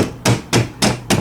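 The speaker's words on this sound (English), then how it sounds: "It's a little rubber hammer." A small rubber hammer strikes a part of a Mak 90 rifle during a stock change, four firm, evenly spaced knocks at close range with no talking.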